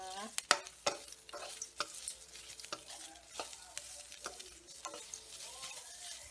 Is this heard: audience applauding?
no